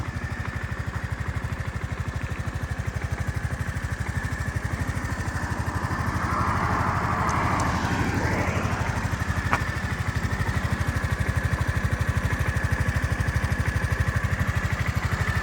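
A 250cc fuel-injected Honda Forza MF-08 scooter engine idling quietly and evenly, a steady low close-up putter that holds for the whole stretch with no voices.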